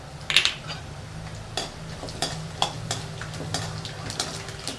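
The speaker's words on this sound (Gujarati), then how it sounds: "વરિયારી ને જીરું બધું આમાં ફૂટી જાય ને રીતે થવા દેવાનું" Mustard, cumin and fennel seeds crackle and pop in hot oil over a medium flame, sharp irregular spits above a steady low hum.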